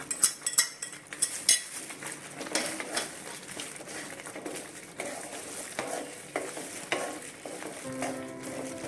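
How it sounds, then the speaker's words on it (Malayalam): Prawns stirred without pause in a pan for a Kerala prawn roast, spatula scraping and clinking against the metal over a steady sizzle, with frequent irregular clatters throughout. "നന്നായിട്ട് കൈയെടുക്കാതെ ഇളക്കിക്കൊണ്ടിരിക്കണം."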